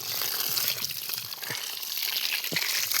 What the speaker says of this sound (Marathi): हे बघा पाणी अशा प्रकारे देत आम्ही